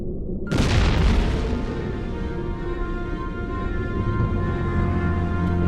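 Bomb blast in the adventure game Broken Sword 4: The Angel of Death, a sudden loud boom that leaves a long, steady rumbling roar for several seconds, with no voices.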